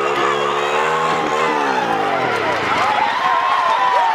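Spectators at a Sharman Cup rugby semi-final between Otara and Ponsonby roar and shout in a loud, sustained crowd reaction, with voices rising and falling in excited waves throughout.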